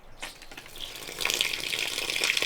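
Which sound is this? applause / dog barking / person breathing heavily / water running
water running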